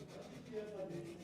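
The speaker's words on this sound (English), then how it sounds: "So my final sanding is always in the direction of the grain if I can." A wooden cutting board is hand sanded with the grain using 240-grit paper, producing a soft, faint, brief rubbing swish close by.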